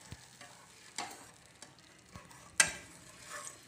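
Tomato sweet syrup boils in a pan with soft, scattered pops and bubbling ticks, one sharper burst near the end, close and fairly quiet with no voice over it.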